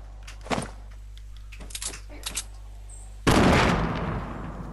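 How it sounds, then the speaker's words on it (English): Gunfire in the Fortnite video game, with scattered SMG-like shots followed by a loud, sustained blast of shotgun fire that trails off, all over a constant low hum. "Sounds like an SMG. Yeah, there's also a shotgun going off at me."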